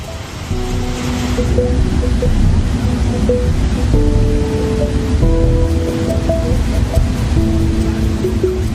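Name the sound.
Chitrakoot waterfall roaring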